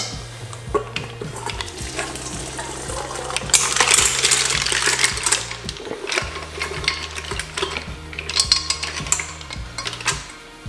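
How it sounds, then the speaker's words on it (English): Cooked mussels are drained and their broth poured off, giving a close clattering of shells with a wet pouring and splashing sound and a faint rhythmic mechanical hum underneath, with no talk. "we're going to drain those mussels off, saving the liquor and the broth for later"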